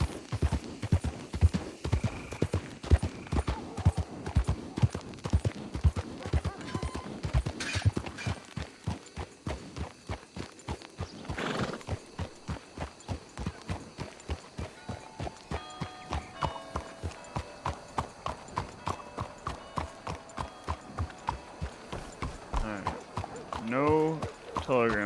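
Steady rhythmic clip-clop of a ridden horse's hooves from the WildRP video game, loud and close, with a brief whinny partway through and talking over the hoofbeats.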